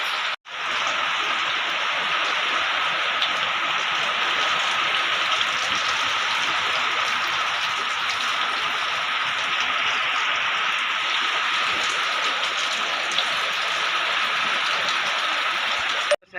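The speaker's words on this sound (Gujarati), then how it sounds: "તો વરસાદ ચાલુ ચલો બહાર તમે જોઈ શકો છો" Steady rain falling all day over a village, a dense, even hiss of drops on surfaces that holds at a constant, fairly loud level for the whole stretch, with no voices.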